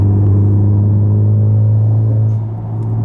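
A Honda Type R's 2-liter turbo engine pulls steadily in fifth gear, a loud, even droning hum heard from inside the car that dips slightly near the end, with no talking.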